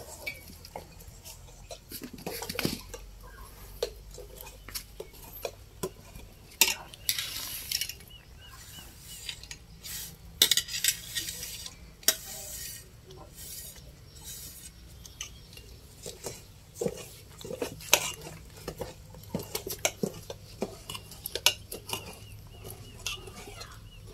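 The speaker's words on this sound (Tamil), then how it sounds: "ஹஸ்பண்ட் அண்ட் ஒய்ஃப் சேர்ந்து கிண்டுறாங்கப்பா" Pongal being stirred in a pot for a Surya Pongal celebration, irregular scraping and metallic clanks from a ladle against the pot, close, with outdoor background noise and brief voices.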